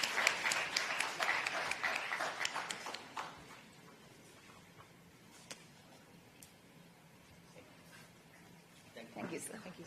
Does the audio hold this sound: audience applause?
yes